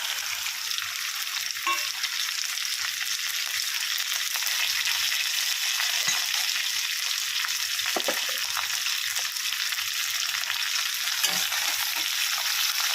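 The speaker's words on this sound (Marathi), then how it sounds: "तर ती अशा प्रकारे तेलामध्ये छान अशी फ्राय करून घेणार आहोत।" Sliced okra (bhindi) sizzles steadily in hot oil, a continuous bright frying hiss with a few soft stirring knocks and scrapes, close and alone without talk.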